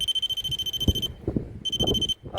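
A paranormal detector pod's high-pitched electronic alarm beeps steadily in long bursts, pausing briefly twice, with low rustling and handling noise underneath.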